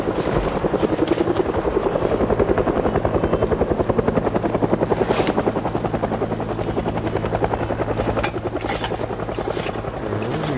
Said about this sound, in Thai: ฮลิคอปเตอร์บิน ผ่านแถวนี้ว่ะ